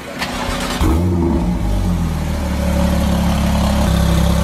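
A stock-engine turbocharged Honda Civic with a Boost Logic exhaust cranks, catches and revs, then settles into a loud, rumbling idle that stays steady and close.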